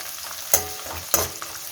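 Garlic and green chilies sauté in a hot pan for a vatha kuzhambu, giving a steady close sizzle broken by two sharp scrapes of a spoon stirring against the pan, with no talk.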